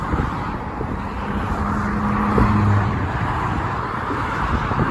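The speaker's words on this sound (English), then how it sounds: "Eastbound traffic is going smoothly here. Westbound's kind of slow." Steady road traffic on McCowan Road in Scarborough, Toronto, with cars passing continuously at moderate distance and a constant loud wash of tyre and engine noise, heard while walking along the roadside.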